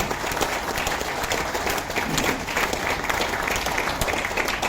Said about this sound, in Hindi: अपने लिए बस जोरदार ताली बजा दीजिए प्लीज, जोरदार